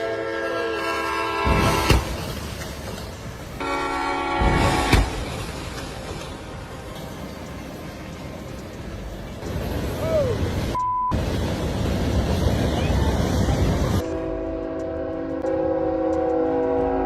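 A speeding train blasts its horn in loud, repeated bursts over a steady rumble of rail traffic, with abrupt cuts between scenes and a brief tonal whistle near the middle.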